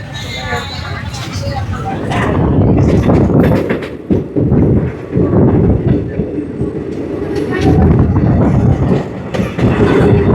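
A train rumbles and clatters over the Pamban railway bridge above the sea, loud and close, with rhythmic clanking throughout and a voice talking over it.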